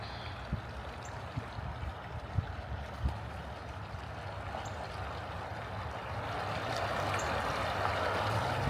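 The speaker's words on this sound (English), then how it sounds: "Water is definitely moving a little bit." Water flows and churns continuously after storms, a broad, steady rushing close by that swells slightly louder toward the end, with a few small splashes or knocks early on.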